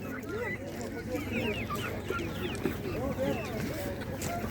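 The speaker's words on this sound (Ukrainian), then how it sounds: "Бачите, тут окремо стоять кугутики." Chickens and roosters at an outdoor animal market cluck and call continuously, with many overlapping birds close by and market chatter in the background.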